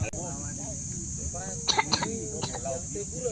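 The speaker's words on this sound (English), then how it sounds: "That kid coughing in the background's a little ominous." A child coughs a few times in the background, faint and muffled under a steady noisy room tone.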